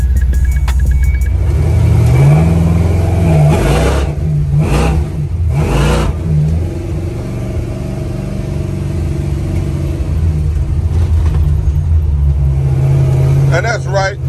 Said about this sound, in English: Exhaust on this bitch so nasty, bro.